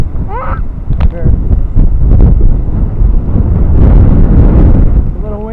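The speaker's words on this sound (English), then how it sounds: "It's a little windy out." Strong Hurricane Dorian wind roars loudly and steadily into the microphone, with gusts swelling throughout and brief voices heard over it.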